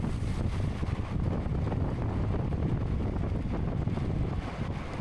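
Steady wind rushing over the microphone during a men's C category CRCA bicycle road race, a continuous low buffeting roar that stays loud and unbroken with no voices.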